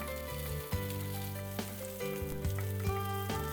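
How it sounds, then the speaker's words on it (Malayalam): Dried red chillies and curry leaves sizzle steadily in hot coconut oil, a constant crackling hiss broken by a few sharper pops, with a background hum running underneath. "നമുക്കിതിലേക്ക് 2-3 ഉണക്കമുളക് ഇട്ട് കൊടുക്കാം. അതുപോലെ തന്നെ കുറച്ച് കറിവേപ്പില കൂടെ ഇട്ട് കൊടുക്കാം."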